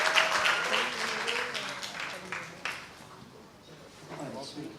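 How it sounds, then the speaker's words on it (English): Audience applause at a book launch for Ms Draupadi, a dense patter of clapping that fades midway and swells again, with voices talking over it. "Can we give them a round of applause, please?"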